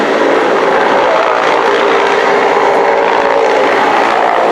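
A loud, steady roar of a military helicopter at a Ghana Independence Day display fills the clip, a dense continuous wash of rotor and engine noise without pauses.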